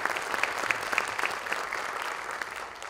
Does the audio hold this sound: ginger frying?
no